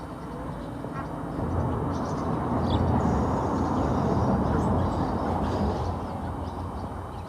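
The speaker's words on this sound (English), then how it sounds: "Looks like the ducks have come to say hello to me." Ducks quack in a steady, noisy chorus close by on a concrete river bank beside the water, with soft wind-like rumble underneath.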